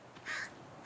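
A crow caws once in the video game The Forest, a single short, moderately loud call standing alone over a quiet background.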